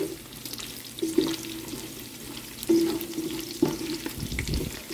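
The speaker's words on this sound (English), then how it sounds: "so that we don't get the meat pieces burning too badly, but we're still rendering that fat off" Beef pieces frying in a pot over medium-low heat as the fat renders, a steady soft sizzle with a few brief louder crackles and stirring bumps, fairly quiet.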